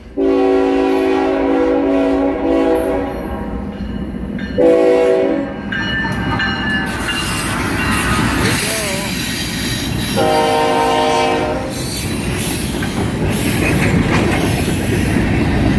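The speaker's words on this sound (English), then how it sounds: "whoa, hear that whistle coming." A train horn blows loud long blasts, sounding in separate bursts over the steady rumble of passing rail cars.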